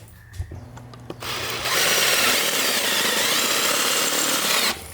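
A power drill whirs loudly and steadily for several seconds after a few clunks and taps, then stops abruptly, during a 5-speed manual swap into a 1969 Mercury Cougar.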